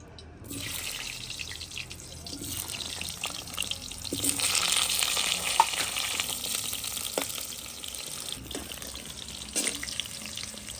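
Potatoes drop into hot oil in a village kadai and fry with a broad, steady hiss that swells midway. Faint scrapes and clicks sound close by and no one speaks.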